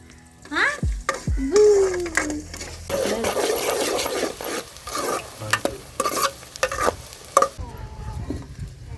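Onions frying in a pan for mushroom curry, steady sizzle and repeated stirring scrapes, close by, with a few brief voice sounds early on.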